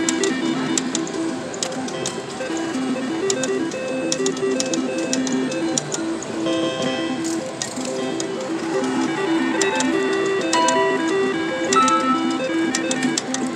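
Looking Glass slot machine spinning on a 1-credit bet, with a steady stream of layered electronic chimes, bell-like tones and beeping reel effects playing continuously and fairly loud, no talking.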